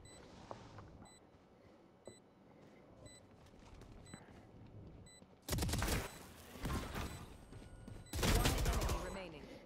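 Rapid bursts of automatic gunfire from the shooter game Valorant come in three loud volleys, following a quieter stretch of game ambience and faint beeps.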